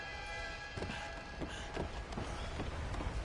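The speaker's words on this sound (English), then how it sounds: "Arthur! A train!" A train rumbling closer in a video game, a dense low roar with rhythmic thuds and clatter, steady and moderately loud, no voices over it.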